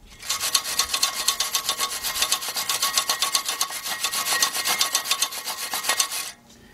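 A wire brush scrubs a front brake caliper bracket on a 2007 Dodge Ram 3500 pickup with a 5.9 engine, giving a fast, steady rhythmic scraping rasp up close that runs for about six seconds and then stops.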